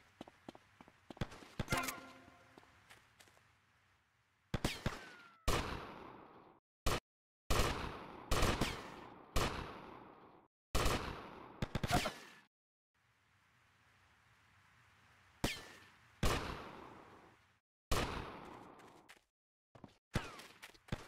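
Gunfire in Grand Theft Auto: Vice City, repeated sharp shots and rapid bursts with ringing tails separated by brief quiet gaps, loud and close.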